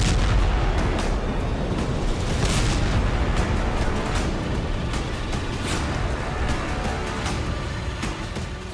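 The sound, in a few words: explosions at oil depot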